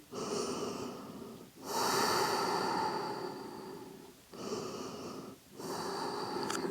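Slow, deep breaths from a person holding yoga child's pose, four long airy inhales and exhales close to the microphone, separated by short silent gaps, with no talking.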